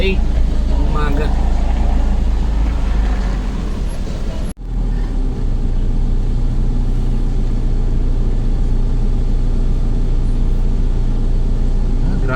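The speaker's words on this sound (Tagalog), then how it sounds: "Grabe guys ang traffic" Heavy morning rush-hour traffic on the EDSA Skyway, with a dense, continuous roar of car engines and road noise throughout, broken once by a brief dip.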